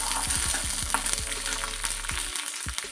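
Four torn green chillies hitting hot oil, a constant bright sizzle with a series of short scraping taps from stirring, close and steady, with no voices.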